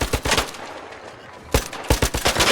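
Rapid gunfire in the video game ARC Raiders, loud dense bursts of shots crackling close, a short lull in the middle, then another sustained volley.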